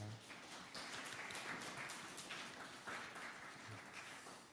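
A church congregation at a Sunday Advent service claps in a soft, continuous round of applause to welcome one another, fairly distant and even.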